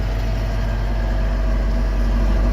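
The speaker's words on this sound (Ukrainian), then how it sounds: "Це, будь ласка, це ДТЗ 5504 НКК. Трактор на 50 кінських сил." DTZ 5504 NKK tractor, a 50-horsepower model, with its engine idling close by in a steady, deep, even rumble that holds constant throughout, no voices.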